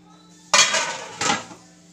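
A metal lid set back onto a cooking pot on a low gas flame, giving a sharp clatter followed by a second, softer clank as it settles. The sound is close and stands alone, with no talk.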